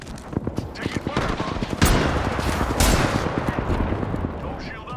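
Rapid bursts of video game gunfire from a shooter firefight, dense repeated shots and loud blasts crowding the whole stretch, close and harsh, with a voice talking over parts of it.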